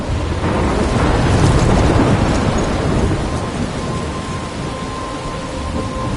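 A rainstorm in the video game Life Is Strange, with dense rain hissing steadily and low rolling thunder swelling and fading underneath. No voices are heard.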